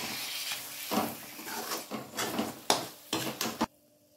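Peas are stirred into masala in a pan with a spoon that scrapes and clanks against the metal in irregular strokes, close and fairly quiet, ending abruptly.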